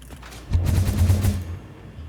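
A hypertube cannon launch in the factory-building game Satisfactory: a sudden loud whooshing burst with a low booming rumble that swells for about a second, then fades, with no talking.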